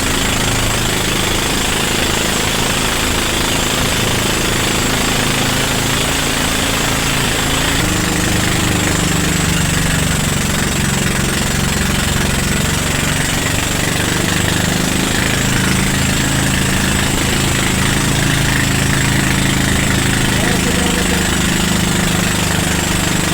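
A boat motor drones loud and continuous while running out at sea, a steady rough engine rumble with wind and water noise, no voices.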